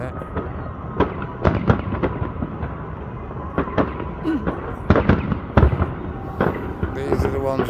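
Fireworks boom and crackle outdoors in a steady series of loud bursts spread across the stretch, with people talking over the noise.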